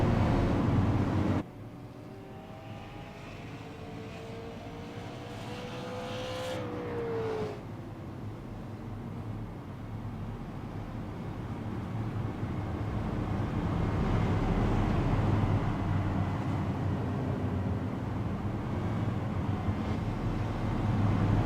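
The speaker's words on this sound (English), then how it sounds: "So as we watch the cars roll by pit road" Super late model race cars roll slowly along pit road at Richmond International Raceway, a steady engine rumble that swells over twenty seconds, with one car passing close early on and wind buffeting the microphone.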